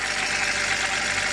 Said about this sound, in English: Engine is running smooth.